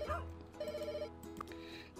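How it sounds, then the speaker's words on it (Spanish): A telephone rings in the pet care video game Pets Hotel, a faint steady electronic ringing tone running through the moment with no talking. "Que están llamando por teléfono."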